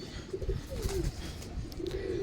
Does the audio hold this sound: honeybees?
no